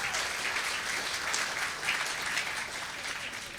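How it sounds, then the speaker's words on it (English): Steady audience applause fills a civic State of the City address, a dense continuous wash of clapping at moderate level throughout, with no voices rising above it. "Let's give them a big round of applause and thank you."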